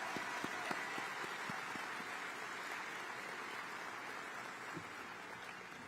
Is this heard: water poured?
no